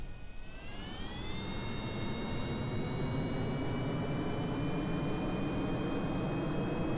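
A rocket engine in Kerbal Space Program throttles up, a broad roaring hiss that swells over the first second and then holds steady and loud, with a thin rising whine layered on top.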